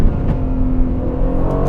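A 503 hp Aston Martin Vantage engine hums steadily from inside the car and revs up slightly toward the end, a loud, continuous drone with no talking.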